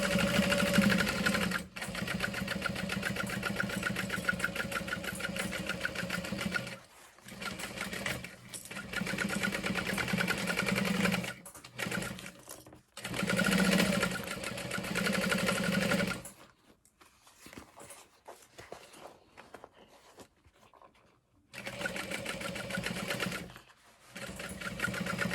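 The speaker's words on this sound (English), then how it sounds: "we're just going to sew around the outer edge, back stitching throughout just to kind of reinforce certain spots" A sewing machine stitches around the outer edge of a tote bag in long loud bursts, stopping and restarting several times for backstitching. Quieter handling gaps fall between the runs.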